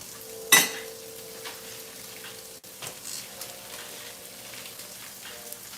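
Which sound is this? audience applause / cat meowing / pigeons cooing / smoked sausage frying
smoked sausage frying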